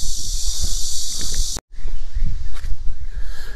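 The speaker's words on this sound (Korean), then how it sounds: "매미 소리도" Cicadas chirp on tree-lined Peng Chau Island, Hong Kong, as a loud, steady high-pitched buzz that cuts off abruptly partway through, with soft rustling and footsteps underneath.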